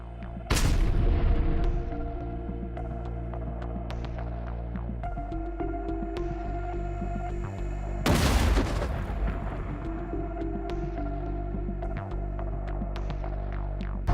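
Two heavy booming blasts land in combat footage with attack drones, each a sharp close burst trailing into a rumble, set against a steady throbbing hum with scattered sharper cracks.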